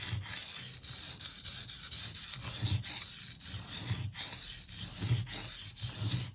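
A knife sharpened by hand on wet whetstones, rhythmic rasping strokes of steel grinding across stone in a steady back-and-forth pattern, close and clear with no talking.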